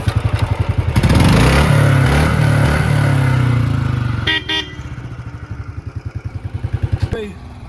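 A Royal Enfield Bullet 350 with its stock silencer thumps close by, its engine rising to a loud rev and then settling back into a rhythmic, pulsing idle, with a brief horn-like tone in the middle.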